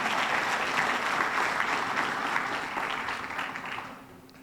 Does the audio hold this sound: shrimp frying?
no